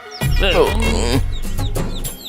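Clucking chicken sounds from a rooster in a South Indian film scene, several quick warbling calls in close succession, mixed with other voices and movie sound.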